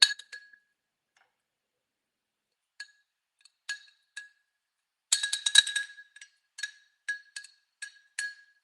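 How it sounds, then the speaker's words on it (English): A spoon clinks against a glass while purple sweet potato powder is added for a latte, sounding as a quick cluster of bright taps, then scattered short clinks spaced apart, close and fairly quiet. "I'm just going to put a little in my glass"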